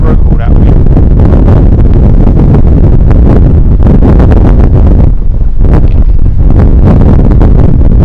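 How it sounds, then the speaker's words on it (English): Strong wind roaring on a golf course, loud, continuous buffeting across the microphone throughout. "This wind, absolutely winging. That wind is brutal."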